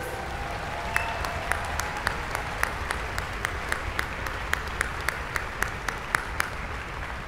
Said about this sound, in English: let's give a round of applause for our teachers.